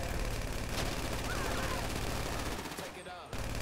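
Rapid gunfire in GTA5 keeps up as dense, continuous automatic shooting, loud and close, briefly thinning near the end, with a voice talking faintly underneath.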